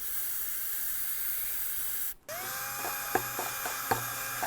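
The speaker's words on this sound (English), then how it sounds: "For that you can use a bore brush and some parts cleaner." Parts cleaner sprayed into brake caliper slider bores on a 2009-2018 Ram 1500: a steady close aerosol hiss for about two seconds, a brief stop, then quieter hissing with a few light metallic clicks.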